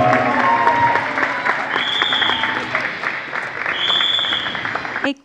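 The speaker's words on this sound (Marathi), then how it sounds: "जोरदार टाळ्या पहिले दोघांसाठी." An audience applauds after a Marathi song performance, a loud, dense burst of clapping that carries on for several seconds before cutting off abruptly.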